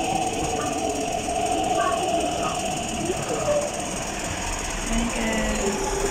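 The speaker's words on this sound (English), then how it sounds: "My train is coming." A train arriving at a station, steady rumbling and rattling of wheels on rails with faint squeals and clanks, continuous and fairly close throughout.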